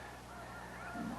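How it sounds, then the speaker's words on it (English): Geese honking at their roost just after sunrise in Tamaulipas, Mexico, a steady chorus at a distance, with a slightly louder burst of calls near the end over a constant outdoor hum. "Can you hear the geese?"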